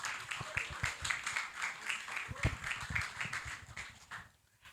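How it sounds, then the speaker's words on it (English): An audience at a corporate launch event keeps up steady, dense applause, many hands clapping close and continuously, tapering off at the end. "Please, let's keep clapping for him till he comes up."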